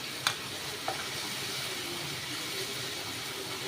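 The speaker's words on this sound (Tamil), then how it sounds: "இந்த எண்ணெயிலே எல்லாத்தையும் மசாலா வதக்கி விட்டுக்கோங்க" Masala with ginger garlic paste, chilli powder and coriander powder sautés in hot oil for a chicken fry, giving a steady close sizzle, with two quick utensil clicks near the start.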